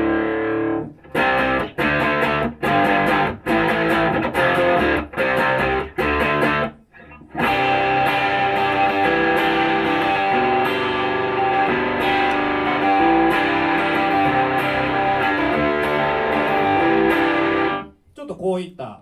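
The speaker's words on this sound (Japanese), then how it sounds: "オーバードライブ的なというかコード弾きにもできそうなぐらいのこう1個目は緩い歪みが入ってて" Electric guitar plays through a Stoner's FX overdrive pedal with mild distortion, first as several loud separate chord strikes, then as a long sustained strummed passage that cuts off near the end.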